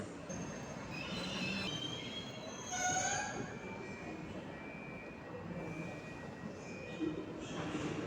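The Polish TLK "Małopolska" passenger train to Gdynia rolls past on the rails with steady rumbling and screeching, squealing wheels, heard from trackside at moderate volume.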